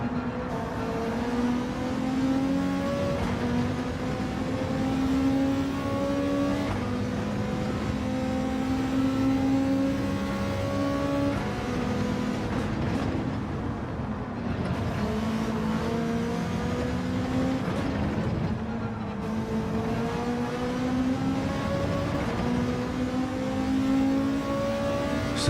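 Race cars in a German Gr3 racing video game, led by a Mercedes AMG, roar through repeated engine revs, pitch climbing with each gear then dropping at shifts, loud and continuous throughout without talk.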